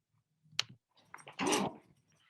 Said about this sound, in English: And my dogs will be an issue probably throughout this talk.